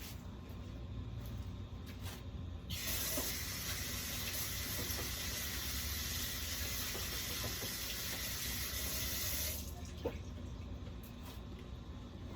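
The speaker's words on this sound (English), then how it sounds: "Let me wash my hands" Tap water runs steadily for about seven seconds while hands are washed in a home kitchen during old-fashioned cooking, a broadband hiss that starts and stops abruptly.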